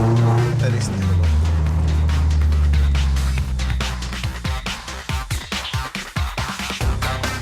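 Mazda MX-5 Global Cup race car on a track near Barcelona, engine droning loudly and close, then rising and falling in quick rhythmic bursts as it revs through gear changes.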